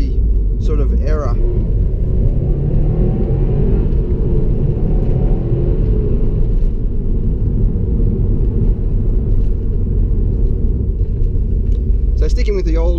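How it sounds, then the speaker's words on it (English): A 2016 Subaru WRX STI with a 2.5 litre engine drives on a track, its engine a steady low rumble under constant cabin noise, with someone talking over it throughout. "The engine isn't really loud. It doesn't shout out that this is a WRX STI."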